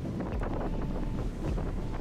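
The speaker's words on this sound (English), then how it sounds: "The wind's just going to blow me 7 kilometres all the way to the end of the peninsula." Strong wind buffets the microphone on a peninsula road, a loud, rumbling, continuous gusting roar with no other sounds.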